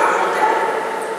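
An Australian Shepherd at a dog event gives a short whining, yelping bark-like vocalization lasting about a second, close and fairly loud.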